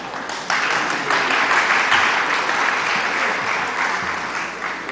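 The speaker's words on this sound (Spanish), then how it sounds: "Y todo el mundo empieza a aplaudir." Applause from a theatre audience at a forum on media: a crowd claps loudly and steadily, the sound rising suddenly after a brief quieter moment and holding a dense, sustained patter throughout.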